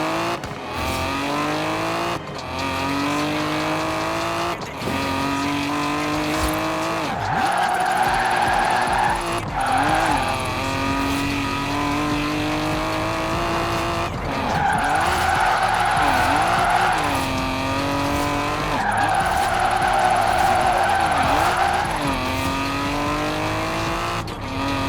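A car drifting in Forza Horizon 4, its engine revving loud and steady with repeated rising and falling tire squeals over a sustained tone, with no voices.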